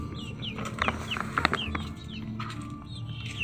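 A flock of hybrid chickens, including young birds, cluck and chirp near at hand in a rural yard, with repeated short calls and steady background ambience.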